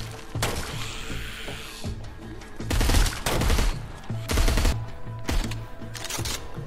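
Bursts of gunfire in the zombie shooter Arizona Sunshine, loud repeated volleys and rapid shots in clusters over steady game background, with no talking.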